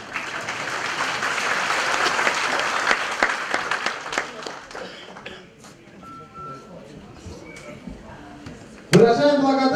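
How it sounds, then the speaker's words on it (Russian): Audience at a Mawlid gathering in Endirey applauds loudly, a dense clatter of clapping that thins and fades toward the end before a voice starts speaking. "вы погромче хлопайте"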